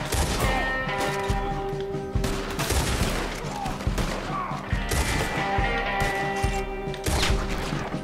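Rapid bursts of rifle fire in Red Dead Redemption 2 crack repeatedly in sharp, loud volleys over a busy background of game effects and ambience.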